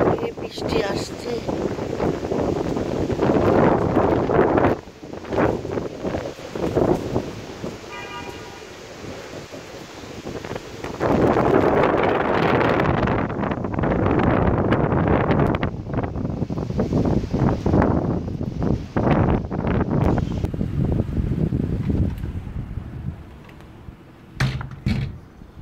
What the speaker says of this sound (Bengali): বাতাস যে কী জোরে জোরে বইছে তা আমি আপনাদেরকে একটু শোনাচ্ছি